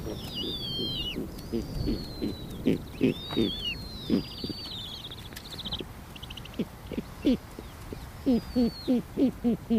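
Snowy owl owlets calling at the nest: close, repeated harsh calls in quick pulsing bursts, with thin high whistling cries layered over them and no talking.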